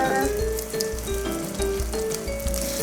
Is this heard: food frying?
yes